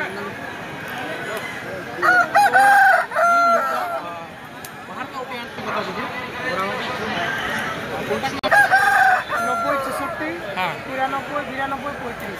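Rooster crowing with chickens clucking at a busy rural poultry market in Bengal, two loud crows standing out over steady crowd chatter and nearby talking.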